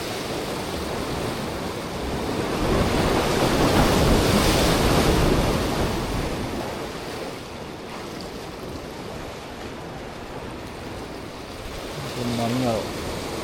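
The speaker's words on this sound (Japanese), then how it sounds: "波か。" Ocean waves wash against an abandoned harbour in Japan, a broad rushing surge that swells to a loud crest and then slowly recedes, with a brief voice near the end.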